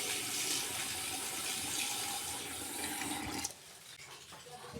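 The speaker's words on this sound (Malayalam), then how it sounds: "ഇതൊന്ന് വൃത്തിക്ക് കഴുകിയെടുക്കാം രണ്ട് മൂന്ന് വെള്ളത്തിലൊന്ന് കഴുകിയെടുത്ത് ക്ലീനാക്കി എടുക്കാം" Running water pours and splashes steadily while cauliflower is washed in a kitchen, then cuts off abruptly, leaving quieter handling sounds.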